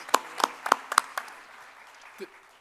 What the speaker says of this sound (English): how about a round of applause for our participants?